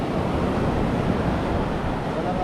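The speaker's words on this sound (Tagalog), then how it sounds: "Kaso lakas ang alon, parang hindi ata pwede maligo dito." Strong ocean waves at Puka Beach, Boracay, a dense continuous roar of surf with wind noise, loud and steady throughout, no distinct breaks.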